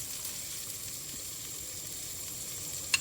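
Garlic and onion sautéing in a pan for Filipino-style sotanghon guisado, a steady soft sizzle throughout with one brief clink near the end.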